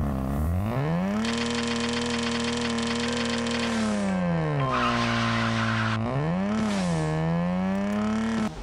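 A 1991 Mazda RX-7 in the racing game Racing Rivals spins its wheels, the engine revving hard in long rising and falling sweeps while tires squeal loudly across the launch, close and continuous with no talk.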